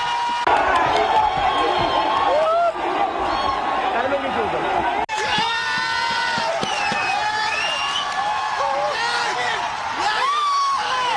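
Party supporters celebrate at Jantar Mantar in Delhi after Dharmendra Pradhan's resignation: a dense crowd cheers and shouts continuously, with many overlapping voices, whoops and a brief dip near the middle.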